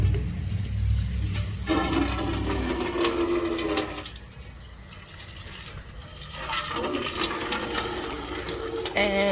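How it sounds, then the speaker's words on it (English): Water rushes steadily from a tap into a container being filled during worm-bin setup, a loud running gush that surges and dips, with muffled handling noises in between. "while I am filling that container"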